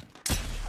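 A grenade blast in an online multiplayer shooter: one sudden loud boom that stays broad and rumbling, with a long sustained roar after the hit and no voices.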